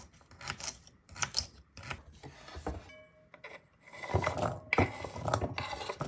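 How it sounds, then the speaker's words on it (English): A knife cuts carrots into same-size pieces for a chickpea salad, close-up irregular chopping taps and scraping strokes against a cutting surface, with a busier run of cuts toward the end. "Same size I'm going to cut the carrots."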